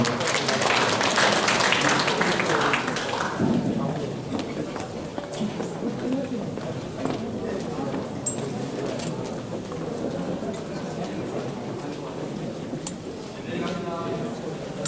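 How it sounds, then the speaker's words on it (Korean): An audience at an economic forum breaks into loud applause that fades after a few seconds, leaving room murmurs and scattered small sounds. "박정국 국장님 박수 좀 부탁드리겠습니다"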